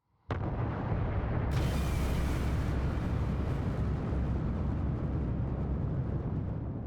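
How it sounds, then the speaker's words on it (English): A huge supernova explosion of a collapsing star, heard as a sudden deep boom that swells into a dense, sustained roaring rumble, loud and continuous to the end. "The outer layers of the star slam down into it, and a huge explosion is generated"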